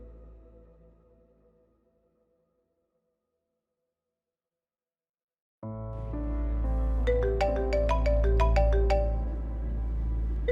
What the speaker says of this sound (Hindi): राहा क्यों कॉल कर रही है मुझे?